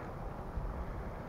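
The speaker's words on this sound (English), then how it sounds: "Today's beautiful. It's really windy." Wind blowing on a bright, very windy day after heavy rain, a steady low rushing roar with gusty buffeting against the microphone, continuous throughout.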